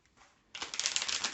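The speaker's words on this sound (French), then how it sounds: "Je tire 3 cartes." Tarot cards being drawn and shuffled, with a quick run of soft, rapid riffling clicks that starts after a brief quiet moment and stays close and faint.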